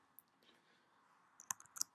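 A computer mouse clicks on a Mac, with a faint tap early on and then a quick cluster of sharp clicks near the end against a quiet background, with no talking.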